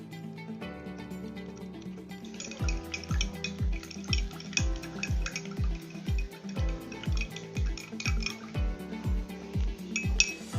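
Teaspoons of salt stirred into a glass of water: a spoon clinks rapidly and rhythmically against the glass, bright repeated taps over a soft background, with no talking.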